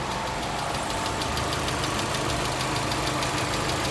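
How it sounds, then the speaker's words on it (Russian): A Lada Vesta engine, towed in for strange noises at startup and boiling over, runs at a steady idle with a fast, rhythmic ticking knock riding over its dense, loud drone, heard close and without voices. "Запустил мотор."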